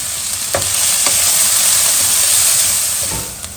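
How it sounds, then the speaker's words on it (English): Onion and chili sautéing in hot oil with salt for spicy pasta, a steady loud sizzle with a few brief clicks of stirring, close and with no talking. "We will saute onion for some time by adding"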